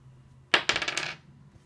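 Dice rattle and tumble across a table during a Twilight Struggle board game, one sharp impact followed by a quick burst of clattering bounces that settles within about half a second, close and fairly loud.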